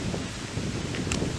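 Wind gusting outdoors in a steady, broadband rush with a faint brief hiss near the end, moderately loud and close to the microphone, no voices present.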